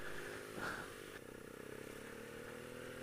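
A BMW R nineT Urban GS motorcycle pulls away in third gear, its engine note rising from a low rumble amid wind noise, moderately faint.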